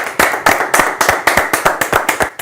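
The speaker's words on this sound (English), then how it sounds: "That deserves another clap." Audience clapping in quick, evenly spaced bursts, about a dozen sharp claps in a row, loud and close with no talking over them.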